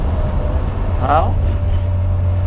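A Triumph 2500 MK I car engine hums at a low, steady drone from inside the car while it drives, and someone talks briefly over it.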